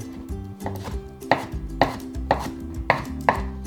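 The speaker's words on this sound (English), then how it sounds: "To make finely chopped shiso Japanese basil" A knife finely chopping shiso Japanese basil on a board, sharp close knocks coming in an irregular rhythm of about five strokes after a few softer taps, with no one talking.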